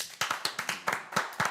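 Steady run of about ten sharp hand claps from one person in a live show studio, close and evenly spaced, with no talking over them.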